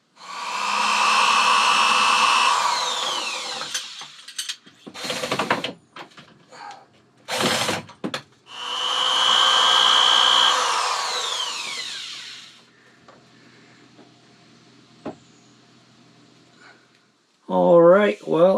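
Power driver whirring in several long and short bursts as 5/8 and 3/4 inch number 6 screws fasten a countertop with L brackets inside a 2024 Ford Transit 250 camper van conversion, close, with gaps between runs.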